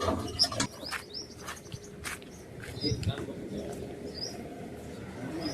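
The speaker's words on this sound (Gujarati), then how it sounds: "મસ્ત પોપટ છે." A parrot at a small resort gives short, high chirping calls, scattered and fairly close, over a busy outdoor background with people talking nearby.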